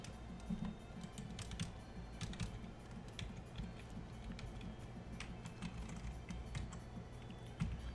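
Computer keyboard typing at a Kali Linux terminal, with quick, irregular clicky keystrokes close up throughout and no voices.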